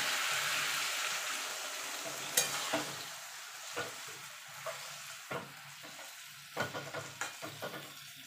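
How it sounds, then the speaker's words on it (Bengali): Water poured into a hot pan of Bengali mixed vegetable curry with peanuts sets off a loud steady sizzle and hiss that gradually fades, followed by a series of soft knocks from a spoon stirring the pot. "এবার অল্প করে জল দিয়ে দেবো।"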